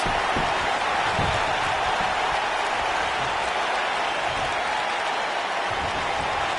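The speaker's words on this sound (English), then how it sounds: "This capacity crowd starting to sense the end is near" A virtual arena crowd in the wrestling game WWE 2K19 roars steadily in a dense, continuous wash of cheering, with no clear pauses or peaks.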